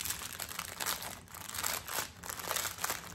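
Plastic bags of diamond painting diamonds being unwrapped, a close, continuous crinkling and crackling of plastic with bursts of louder rustle throughout.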